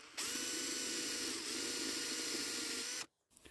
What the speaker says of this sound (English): the easiest way with pop rivets, because they're aluminium, is just to drill the top off